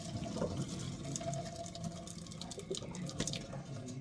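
Water pours and splashes steadily into a sink as a pasta pot is drained, a close, continuous gush with small drips and clatters, no voices.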